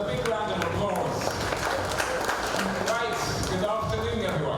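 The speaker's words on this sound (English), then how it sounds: "A big round of applause." Audience applause for Dr. Maffei at a business debate event, a dense steady wash of clapping from a crowd lasting several seconds with faint voices mixed in.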